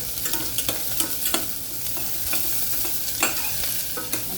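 Garlic and peas fry on high heat for mint rice, a loud continuous sizzle with frequent spatula scrapes and taps against the pan, close up and without speech.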